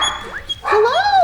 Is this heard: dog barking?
yes